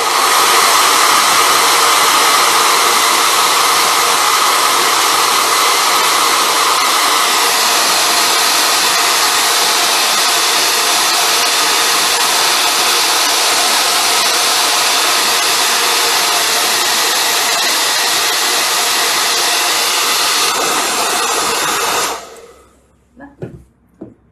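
A hair dryer blows steadily and loudly on wet metallic paint on a snowboard helmet, a constant close whoosh for over twenty seconds before it switches off, followed by a few faint clicks.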